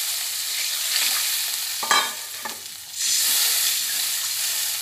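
Water is poured into a simmering village-style curry of matar dal and bottle gourd greens, the steady frying hiss breaking into a short splashing burst before a louder, rougher bubbling sizzle resumes.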